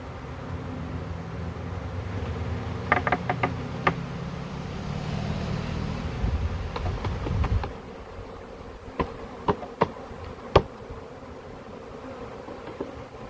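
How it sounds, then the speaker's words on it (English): Swarm of honey bees buzzing steadily around a hive box lid in Sturbridge, Massachusetts, a dense drone with close bees passing near, dropping quieter partway through as a few sharp clicks and knocks follow. "And look at the amount of bees just on a lid."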